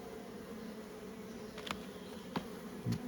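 Buckfast honey bees fanning near the queen, a steady close buzzing drone with a few brief louder bee passes.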